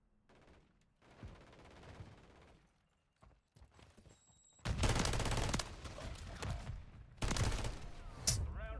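Gunfire erupts in a video game gunfight, first as quieter, more distant bursts, then loud, close rapid volleys in two heavy stretches with brief gaps between them.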